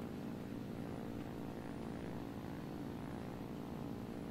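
Propeller aircraft engines in a World War II flight simulator video game with an IL-4 bomber nearby, a constant loud droning hum with a steady throb.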